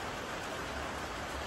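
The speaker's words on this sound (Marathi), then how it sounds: "पाऊस चालू झालाय." Steady, dense rain pours down in a constant broadband hiss that stays even and loud from start to finish, with no voices.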